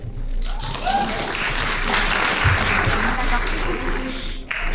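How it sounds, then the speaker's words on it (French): A theatre audience at a slam poetry contest final gives sustained applause, a dense, continuous wash of clapping filling the hall for several seconds, with voices mixed in underneath. "Encore plein d'applaudissements pour elles."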